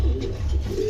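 Pigeons coo in a low, steady, continuous murmur at a market selling pigeons of breeds such as pouters, beauties, shortfaces and blondinettes, close and fairly loud for a single second with no talk.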